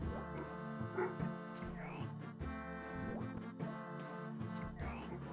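A pet dog in a living room whimpers and grumbles in a few brief, whiny yips, partly covered by steady game music playing throughout.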